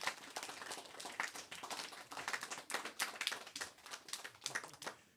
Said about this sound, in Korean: 오해해서 박수 한번 해주세요 우리 유라에게